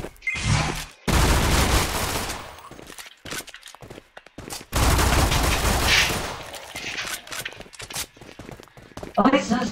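Suppressed pistol and other gunfire in a Roblox zombie game, dense bursts of rapid shots in two long volleys with scattered single pops between, loud and close, with a player talking intermittently over the action.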